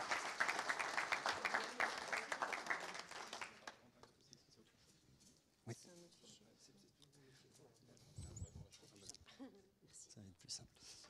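An audience at a French academic talk on urban outdoor sports applauds with a burst of dense clapping, fairly faint and distant, which dies away after a few seconds, followed by scattered noises and a voice speaking.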